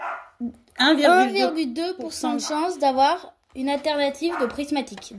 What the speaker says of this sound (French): C'est mon chien qui n'arrête pas d'aboyer.